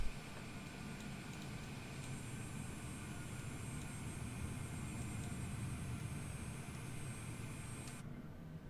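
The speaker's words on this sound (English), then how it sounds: "the other aircraft is now departing. It's an EasyJet, at least an EasyJet color" An EasyJet airliner departing in a flight simulator, a steady, faint, distant jet engine roar that holds constant and then cuts off abruptly near the end.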